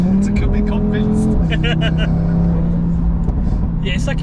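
A tuned 650 bhp Audi RS3 accelerating hard, its engine note climbing and winding up in a rising whine, close and loud inside the car, with people talking over it.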